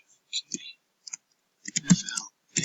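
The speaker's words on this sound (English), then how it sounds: "I'm just going to type in" Short bursts of computer keyboard typing, a few scattered clicks, then a denser run of keystrokes entering a word, close and fairly clear with no talk over it.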